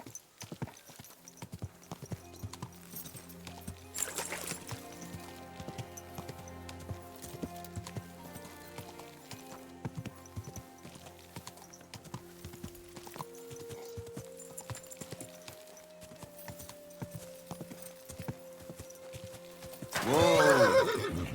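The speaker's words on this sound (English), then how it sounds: "Easy, good horse." In the video game Kingdom Come: Deliverance II, a horse's hooves clip-clop in a steady walking rhythm over light background music, ending in a loud, close neigh.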